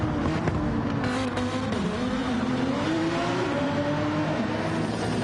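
Porsche and Lamborghini race cars lapping Laguna Seca in a racing video game, a continuous engine drone rising and falling in pitch as they accelerate, steady and fairly close.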